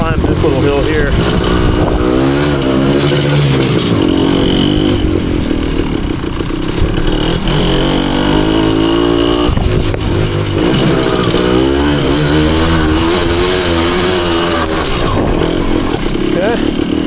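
A 1974 Honda MT250 two-stroke enduro motorcycle climbs a wooded hill in first gear, its raspy engine buzzing loud and close with shifting pitch and clattering throughout.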